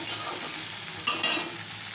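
Okra frying in a pan while being stirred, a continuous soft sizzle with two sharp scraping stirs of the spoon near the end, no talking.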